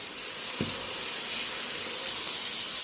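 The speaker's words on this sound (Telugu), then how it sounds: "ఒక చొక్క వాటర్ పోసేస్తున్నాం అండి" Water pours steadily into a pan of gongura curry, giving a continuous hissing gush, close and fairly loud, with a brief knock near the start and no speech.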